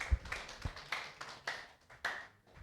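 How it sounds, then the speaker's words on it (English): Sparse applause for a speaker at a climate variability modelling meeting: a handful of separate claps from a small audience, loose and irregular, fairly quiet and close. "So there's a round of applause for him"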